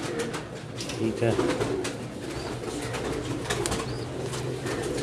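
Teddy pigeons cooing in low repeated throaty bursts at close range, with someone talking over them.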